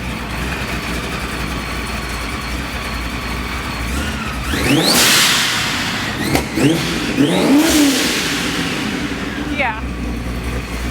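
A carbon fiber Mustang with a ProCharger supercharger idles, then revs sharply in a few loud bursts with a rising and falling supercharger whine, close by, while people talk excitedly.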